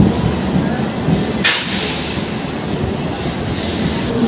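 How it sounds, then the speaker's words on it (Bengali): Puri Express passenger train running on the loop line at Andul on the Kolkata route, heard close and loud with wheels squealing sharply in two bursts over a steady rumble of rail cars. "এই পুরী এক্সপ্রেস কিন্তু আন্দুলের লুপ লাইনে আছে"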